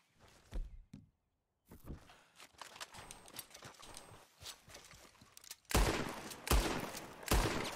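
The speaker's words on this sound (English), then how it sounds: "All those fucking bullets." Gunfire in the video game Red Dead Redemption 2: a string of scattered sharp shots and impacts at irregular intervals, some distant and quiet, with a louder cluster of close bangs near the end.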